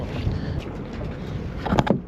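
Wind rushes over a sailboat on the Baltic Sea, a steady breathy hiss against the hull and microphone with faint knocks and creaks near the end.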